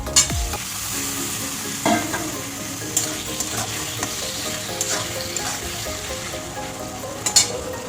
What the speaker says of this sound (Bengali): আমি টমেটোটা দিয়েও একটু ভালো করে ভেজে নিয়েছি।